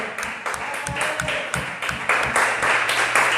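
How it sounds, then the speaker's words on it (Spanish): Congregation at an evening church service applauding, steady, fairly loud clapping from many hands that keeps on without a break. "Dele un aplauso a Jesús en esta noche"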